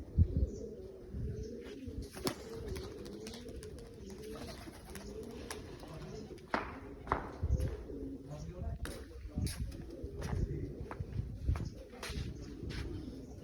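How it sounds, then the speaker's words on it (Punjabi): Pigeons of Meera Kalan and Jante Kalan stock coo softly and repeatedly in a loft, with quiet flutters and scattered clicks, while someone talks over the low, steady murmur. "ਇਹ ਕਬੂਤਰ ਹੈਗੇ ਜੀ ਮੀਰਾ ਕਲਾਂ ਦੇ ਤੇ ਜੰਟੇ ਕਲਾਂ ਦੇ"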